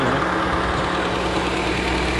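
A car engine idles steadily and up close, a constant broadband rumble with no gaps or changes, with no voices present.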